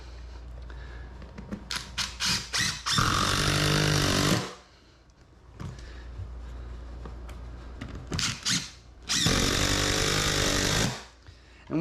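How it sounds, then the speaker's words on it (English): A power tool drives screws to fasten a scrap wood board down, with two loud, close bursts of whirring, each running over a second, separated by quieter handling clicks and knocks. "I'm going to take some scrap piece of wood here, and I'm going to screw a little board down right up against this piece"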